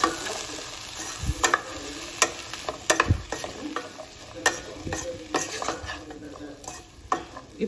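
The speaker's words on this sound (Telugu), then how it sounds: "మళ్ళీ కలుపుకుందాం మంచిగా." A potato, bean and cauliflower fry is stirred in a pan, with repeated close scrapes and knocks of the spoon against the metal over a steady sizzle.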